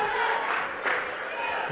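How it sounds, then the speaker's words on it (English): Girls' high school basketball tournament crowd in an arena swelling into loud, sustained cheering and shouting, with brief louder surges, heard from a distance across the gym. "Trojan crowd getting loud over there on the far side of the arena."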